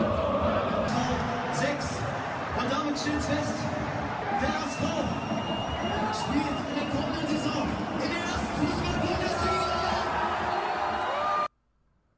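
German football ultras packing a stand, a dense continuous roar of crowd noise and chanting that stays loud and steady for about eleven seconds before cutting off abruptly.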